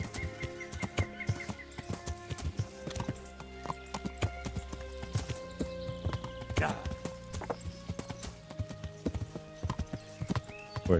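In the medieval video game Kingdom Come: Deliverance, horse hooves clip-clop in quick, irregular beats during mounted combat, with occasional neighing, battle noise and someone talking over it.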